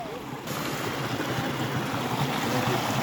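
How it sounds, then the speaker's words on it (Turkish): Continuous rushing water fills the clip, a broad steady wash like a stream flowing nearby, with no clear voices over it. "Böyle yine akan sular, dereler"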